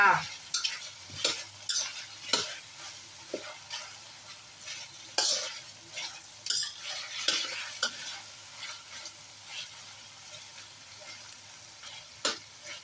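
Pork belly stir-fries in a pan with a continuous soft sizzle, broken by repeated spatula scrapes and taps, close and moderately loud, for a stir-fried morning glory dish with shrimp paste.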